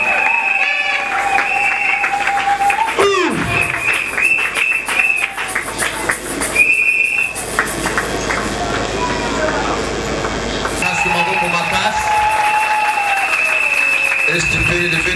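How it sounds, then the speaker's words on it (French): A church congregation at a Sunday service applauds and cheers loudly and continuously, with shouts and a singing or calling voice over the crowd noise. "Nous acclamons pour Jésus."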